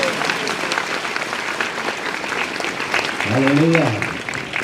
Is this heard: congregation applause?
yes